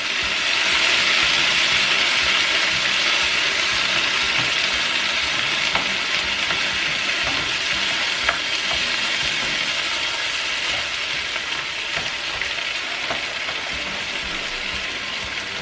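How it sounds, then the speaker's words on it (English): Tomatoes with their juices sizzle and fry loudly in a pan with onions, a constant hissing crackle close by, with occasional soft scrapes and taps as they are stirred and broken up. "we're going to go ahead and add the tomatoes and their juices. And you want to break them up a little bit"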